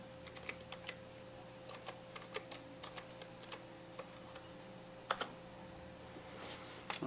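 Soft, irregular keystrokes on a computer keyboard, quiet and fairly close, tapping out short bursts with a steady electrical hum underneath.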